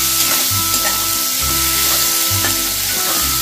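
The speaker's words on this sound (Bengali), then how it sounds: "1 মিনিটের মতো এটা আমি ফ্রাই করে নিচ্ছি" Chopped onions fry in a pan for a coriander bhetki fish dish, giving a loud, steady close sizzle with a rhythmic low humming pulse running underneath.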